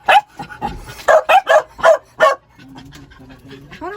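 A neighbor's dog gives a series of about seven loud, close barks in quick succession, then falls quiet into whimpers and faint background voices.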